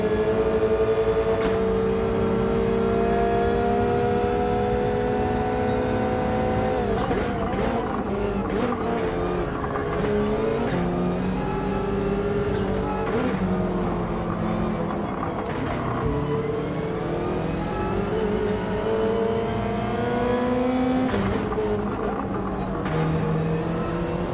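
BMW race car in Gran Turismo 7 at Willow Springs, engine revving loudly through rising and falling gear changes with repeated tire squeals, alone with no talk.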